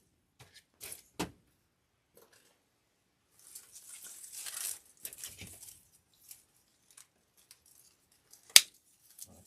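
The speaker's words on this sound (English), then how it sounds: "Cut those stems, making sure not to cut the wrong one." Scissors cut flower stems for a lemon grapevine wreath in sparse, faint snips and a few sharper clicks, alone in a quiet room.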